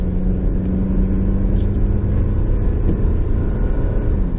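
Used car accelerating on a test drive, a loud continuous engine hum and road roar from inside the cabin, with the engine note shifting subtly as the transmission changes gears.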